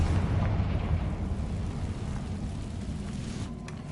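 Spell explosions from Confringo and Bombarda in the Hogwarts Legacy video game open with a heavy, rumbling boom that fades slowly into a low roar, leaving a dull, sustained rumble with a faint crackle near the end.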